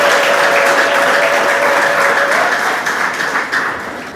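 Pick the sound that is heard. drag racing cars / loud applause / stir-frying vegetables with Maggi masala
loud applause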